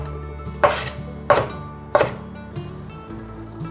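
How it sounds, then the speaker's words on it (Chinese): Three sharp knife chops cut through a bundle of enoki mushrooms on a board, spaced about two-thirds of a second apart, close and crisp, with a low background hum and no voices. "把金针菇切碎"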